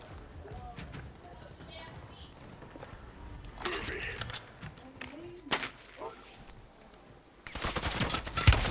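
Gunfire in a Call of Duty video game, with scattered sharp shots and bursts of varying loudness, some distant and some close, mixed with other game effects while people talk throughout.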